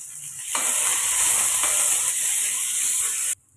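Onions and green chillies dropped into hot oil to sauté, a sudden loud hiss that holds steady for about three seconds, then cuts off abruptly.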